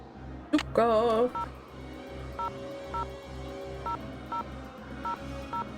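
Telephone keypad tones beep in a steady series, about one press every half second, in the Nancy Drew video game The Haunted Carousel, over a low repeating background hum with a brief louder chime near the start.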